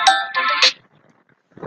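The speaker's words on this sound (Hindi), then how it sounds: "एक कॉल आ गया दोस्तों" Mobile phone ringtone from an incoming call: a loud, close, bright electronic melody for under a second, then near silence before a short burst of something else at the end.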